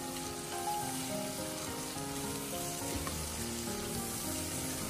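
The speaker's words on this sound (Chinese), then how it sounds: "煸香之后再把切好的西红柿倒进来，继续给它煸炒，把西红柿炒软炒熟" Chopped tomatoes stir-fried in a wok with garlic and scallion, giving a steady close sizzle with occasional scraping stirs.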